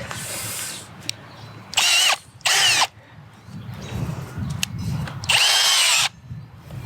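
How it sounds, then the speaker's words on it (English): A power drill bores planting holes in soil for tomatoes outdoors, with three loud bursts of high whine separated by quieter rustling and handling noise. "all the holes are drilled and the tomatoes are set"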